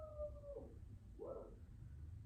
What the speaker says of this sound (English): that dog needs to shut up